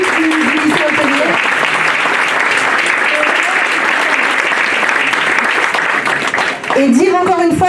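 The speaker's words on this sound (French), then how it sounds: "Donc je voudrais qu'on applaudisse vraiment très fort Anne-Marie, Bernard et toute l'équipe du lyc" Loud, sustained applause fills a room at a gastronomic chestnut dinner for a hotel-school team, with speech audible near the start and again at the end.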